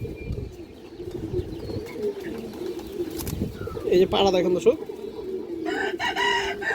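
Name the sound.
pigeons cooing, road line breed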